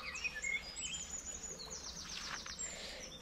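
Birds calling in a Kerala forest in the morning, faint chirps and whistles over a low, quiet background hum.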